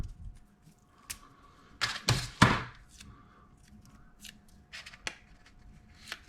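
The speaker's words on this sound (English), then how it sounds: "I'm going to grab some tape. Always have some masking tape around." Masking tape peeled off the roll in a workshop, heard as a few short ripping tears around the two-second mark, quiet before and after, with faint handling noise.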